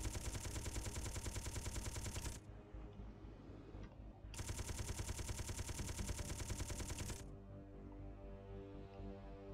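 Automatic gunfire from Space Engineers, sustained rapid bursts of two long loud runs separated by a brief pause, with a lower mechanical hum and clatter underneath between volleys.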